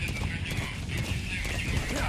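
Steady hoof clip-clop from a horse in Metal Gear Solid 5 with a brief whinny, set against a constant background hum, moderately loud throughout.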